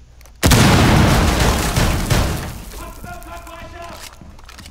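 Breach charge detonating in Rainbow Six Siege Terrorist Hunt on the Consulate map, a single loud close blast that rolls into debris and rumble before fading under faint game sounds.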